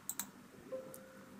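Mouse clicks on a next button in photo recovery software: two quick, sharp clicks close together near the start, then faint quiet room tone.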